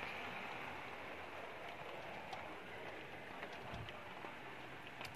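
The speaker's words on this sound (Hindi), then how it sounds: "हमारे घर में बारिश हो रही है" Heavy rain falling steadily outside a house, a dense continuous hiss of drops with no pauses, heard close and evenly loud throughout.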